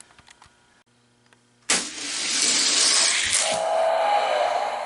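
Die-cast Hot Wheels toy cars, a Mustang GT500 and a Ferrari F50, racing down a downhill track, with a sudden loud rolling rush that starts after a quiet moment and holds steady to the end.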